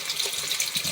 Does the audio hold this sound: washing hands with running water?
yes